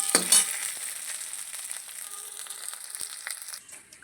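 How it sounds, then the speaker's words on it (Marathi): Onion roasts in a pan for a stuffed brinjal masala, a soft crackling fry with a burst of rustling and scraping at the start, then light intermittent stirring taps under a gentle hiss. "तर कांदा मग मस्तपैकी भाजून घेणार लाल छानपैकी."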